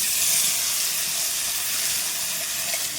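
Nigella seeds and dry red chillies hit hot oil in a kadai, producing a loud, dense, continuous hiss and sizzle that stays steady throughout.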